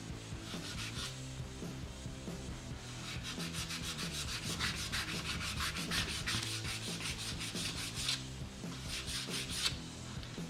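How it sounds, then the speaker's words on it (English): Continuous rhythmic rasping of sandpaper rubbed back and forth on a vintage wooden axe handle, close and steady, in quick repeated strokes with no talking. "I could keep sanding and get all that out of there"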